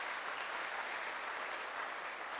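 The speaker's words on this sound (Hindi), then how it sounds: "मैं चाहूँगा सर के लिए एक ज़बरदस्त वाली ताली होनी चाहिए" Audience at a gathering honouring a tutor bursts into dense, steady applause from many hands, a continuous crowd clapping that holds at an even level throughout with no voices over it.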